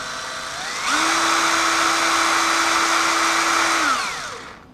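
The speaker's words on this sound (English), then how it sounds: "So I got it hooked up to my drill here," A power drill spins a Hulksta Engineering RC crawler transmission, winding up to a loud, steady mechanical whine with a clear tone, holding for about three seconds, then spinning down; no talking.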